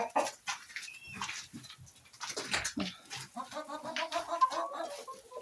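Chickens cluck and squawk in short, irregular bursts close by, with a rooster's calls mixed in and brief rustling between them.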